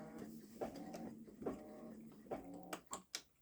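A Baby Lock Solaris embroidery machine sews a lock stitch, giving a faint run of rhythmic mechanical thumps and short whirring bursts, with a few sharper clicks near the end.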